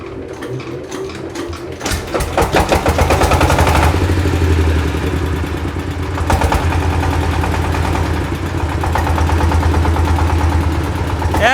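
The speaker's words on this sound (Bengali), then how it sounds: "হেভি ইঞ্জিনে সাউন্ড শুনলি বোঝা যাচ্ছে" An old 20-horsepower diesel engine runs loud and close with a fast, hammering knock, its pace surging briefly midway before returning to a rough, steady idle.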